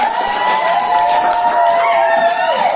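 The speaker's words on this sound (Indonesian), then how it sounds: "Beri tepuk tangan." A classroom of schoolchildren claps and cheers loudly for a group, a thick wash of hands and shouting voices mixed together, with a sustained tonal voice riding over the crowd.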